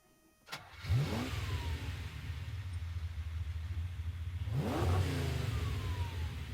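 Ferrari racing car in Gran Turismo Sport: a sharp click, then a loud engine that revs up, holds a steady roar, then revs up again near the end.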